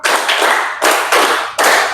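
A class claps together in a counting clapping game: four loud, bright bursts of many hands, close and unaccompanied by speech, with short gaps between them.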